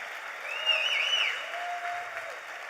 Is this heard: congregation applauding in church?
yes